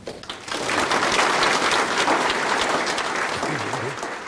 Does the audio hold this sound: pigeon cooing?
no